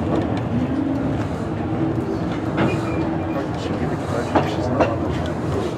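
A heritage train at Cripple Creek rolls steadily along the rails with a low rumble and occasional clicks and clacks, while voices talk faintly inside the carriage.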